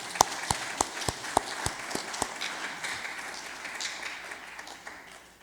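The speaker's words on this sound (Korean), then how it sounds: "모두를 위해서 박수 한번 쳐주시기 바랍니다." Congregation applauding at a Sunday Won Buddhist service, opening with a few sharp, evenly spaced claps that quickly blend into a softer, diffuse round of clapping fading out at moderate distance.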